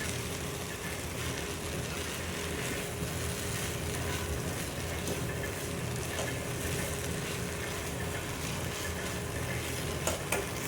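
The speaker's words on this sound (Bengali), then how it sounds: "এই দেখো ঢেলে দিয়েছি, এখন এটা মিক্স করে নিতে হবে, তাহলে হয়ে যাবে।" Food being stirred and mixed in a pan at home, a steady close scraping and soft sizzling texture that continues evenly throughout, with no talking.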